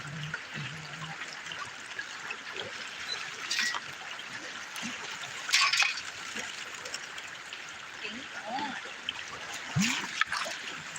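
Water trickling and splashing through a gold sluice on the South Umpqua River, a steady close wash with brief louder splashes, faint talk at times.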